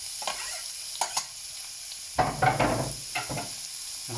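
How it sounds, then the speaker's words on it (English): Chopped onion hits olive or rapeseed oil in a frying pan with a soft sizzle, punctuated by brief stirring scrapes and a louder burst of frying midway, close and without talk. "Some olive oil or rapeseed oil into your frying pan, and finely chopped onion,"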